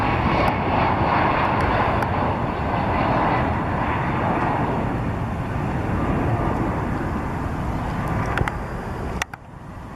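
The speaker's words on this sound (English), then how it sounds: "This Boeing 767 was landing at an airport in Brazil" A Boeing 767 on landing approach at an airport in Brazil, a steady loud roar of jet engines and rushing air filling the whole stretch before a sudden cut near the end.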